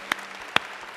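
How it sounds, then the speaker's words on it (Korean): Three sharp, separate hand claps ring out in a church at an early-morning revival service, spaced about half a second apart, close and crisp with quiet between them. "하나님 앞에 영광의 박수 올립니다"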